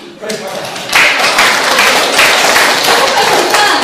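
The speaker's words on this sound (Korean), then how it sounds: "박수 한번 쳐드려야 돼요" An audience in a university lecture hall breaks into applause. Brief talk at the start gives way to dense, loud clapping that rises sharply after the first second and holds steady to the end.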